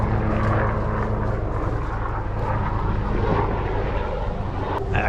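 A small aircraft drones overhead above an apple orchard, a continuous steady engine roar that fills the whole stretch without pause and with no talking.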